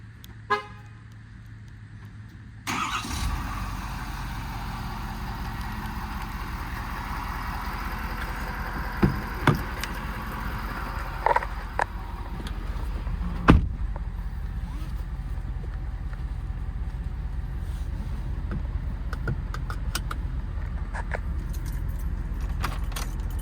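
A 2022 Ford F550 4WD work truck with a crane and service bed starts up: keys jingle, then the engine catches abruptly and settles into a steady, close diesel idle, with a few clicks and knocks from the cab.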